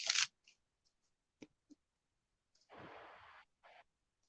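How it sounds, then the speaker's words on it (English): Tarot cards being shuffled by hand, scattered soft clicks and taps followed by a short riffling burst and a brief second riffle, close and quiet in a still room. "I'm shuffling like a deck of cards right now"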